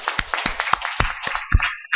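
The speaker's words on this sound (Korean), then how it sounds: "우리 하나님께 한번 박수 영광 드릴까요?" A congregation at a Sunday service marking a church's 35th anniversary claps together, with sharp hand claps landing in a steady, even rhythm about four times a second, fairly close and loud.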